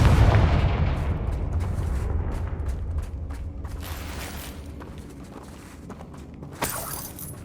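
Fiery blast spell explosions and footsteps in the wizarding game Hogwarts Legacy, a dense rumbling barrage at the start that fades into steady low rumble, with a sharp burst near the end.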